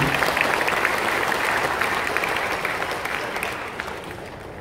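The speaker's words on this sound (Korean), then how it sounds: "우리 이한열 어머니도 박수 한번 주세요" Steady audience applause at a gathering in Gwangju, a dense wash of clapping that slowly fades toward the end.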